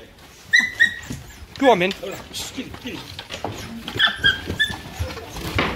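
Terrier dogs whimper and yip in short, high bursts while hunting rats during pest control, the cries close and repeated among rustling, with someone speaking briefly over them.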